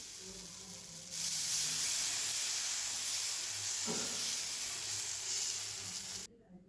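Keerai adai batter hits a hot pan and bursts into a loud, steady sizzle that holds close and bright for several seconds before cutting off abruptly.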